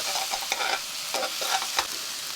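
Samgyupsal pork belly frying and being stirred in a pan, with a steady broadband sizzle and repeated scraping stirs over about two seconds, close and fairly loud.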